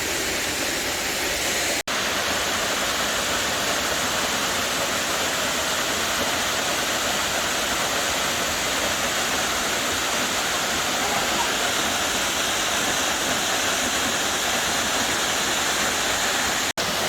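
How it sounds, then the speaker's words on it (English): Bullion Falls in Bullion Canyon near Marysvale, Utah, pours down into a small creek, a loud, steady, unbroken roar of falling water heard up close throughout. "So there's the waterfall. It comes down and feeds this little creek."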